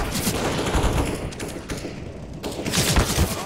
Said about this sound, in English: Sniper rifle time.